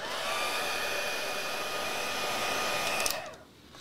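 A hot hair dryer runs for heat embossing, blowing with a loud, steady whir for about three seconds before switching off.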